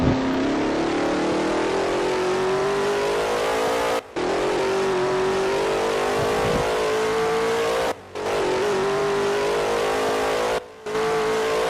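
A steady car engine drone in the racing game Undercover Racing holds a slowly rising pitch, broken by three abrupt momentary cutouts, with no talking.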